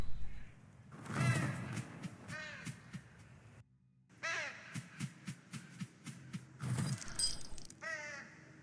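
A crow in the horror video game True Fear: Forsaken Souls caws repeatedly in rapid harsh bursts. A brief pause breaks the run before more loud, close calls follow, set against faint eerie ambience.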